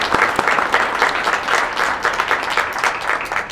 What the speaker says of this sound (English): Let's applaud her in absentia.